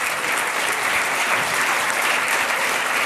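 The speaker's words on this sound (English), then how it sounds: "I just wanted to give another round of applause for all the speakers so far" Conference audience at a web components summit gives a round of applause for the speakers, loud, dense and continuous clapping filling the whole stretch with no talking over it.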